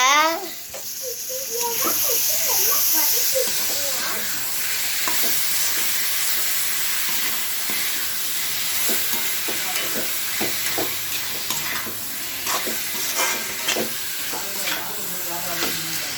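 Prawns sautéing in a pan for a coconut milk prawn fry, a busy hissing sizzle broken by repeated stirring scrapes and taps, with a voice briefly heard at the start.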